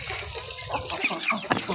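Chickens clucking softly at close range, a few short calls over a low background hum, with a sharper sound near the end.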